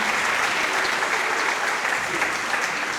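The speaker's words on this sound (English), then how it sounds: "Let's give them one more round of applause." A concert audience applauds a wind ensemble after a video game music program, steady dense clapping filling the hall evenly throughout without pause.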